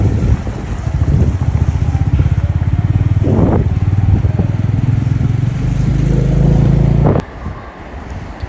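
Motorcycle riding along a mountain road in Kinnaur, its engine a steady close rumble under wind buffeting for about seven seconds, then the drone drops away near the end.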